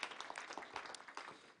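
Audience applause for a speaker at a public talk, a short burst of many hands clapping in a hall that quickly fades away.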